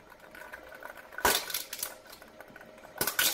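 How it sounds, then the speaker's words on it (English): A shredding machine grinds through objects in two short, harsh bursts over a faint mechanical hum, fairly quiet overall. "this shredding machine can actually shred anything"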